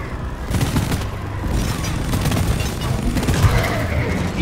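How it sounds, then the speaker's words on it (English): Machine gun fire in Deep Rock Galactic rumbles as a dense, continuous barrage, loud and close, with booming thuds mixed into the steady roar. "stay with the guns, the machine guns"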